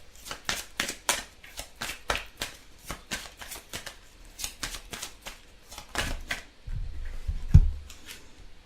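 Tarot cards are shuffled quickly by hand, producing a rapid series of crisp riffling snaps and flicks close up, followed by a few soft thumps and rustles as the deck settles.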